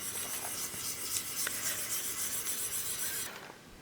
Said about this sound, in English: I'm going to burnish, and I'm going to roll all over the underside.